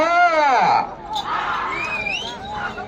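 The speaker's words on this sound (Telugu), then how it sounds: "విజిల్స్ కేకలు" Spectators at a village bull pulling race in Nandivargam erupt in a loud burst of shouting, then keep up a rowdy cheer with shrill whistles rising through the crowd noise.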